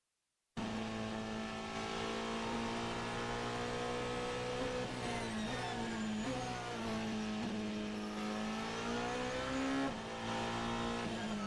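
Race car lapping the Nürburgring at very high speed through sections like Hatzenbach, its engine a sustained high-pitched howl with small pitch dips and rises as it shifts and takes corners.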